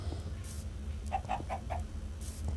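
A hen clucks in a short run of about four quick, mid-pitched calls. They sit over a steady low hum and background noise.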